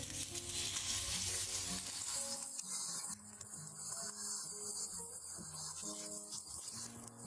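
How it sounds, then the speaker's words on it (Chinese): Shrimp paste for lotus root shrimp cakes fries in an oiled four-hole egg pan, a soft steady sizzle running beneath melodic background music, with a few light scraping clicks. "用这个4孔煎蛋锅来做莲藕虾饼，锅里喷油，把虾泥放进来，"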